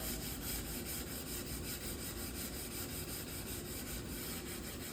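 Wood being sanded with 3M Cubitron orbital sandpaper, a steady close rasping rub with rapid regular oscillation, continuous and even throughout.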